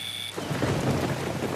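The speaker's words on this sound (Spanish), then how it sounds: "Un hombre camina bajo la lluvia." Rain falls with rolling thunder as a man walks through it, a brief tone giving way to a loud, close wash of rain and a low rumble.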